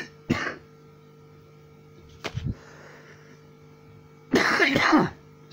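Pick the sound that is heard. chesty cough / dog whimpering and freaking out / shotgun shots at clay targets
chesty cough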